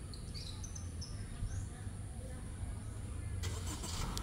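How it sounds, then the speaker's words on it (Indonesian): A 2024 Honda City starts its engine by remote. A low, steady idle comes in partway through, outdoors with birds chirping faintly nearby. "ini mobil udah nyala nih posisinya ya, ini udah nyala"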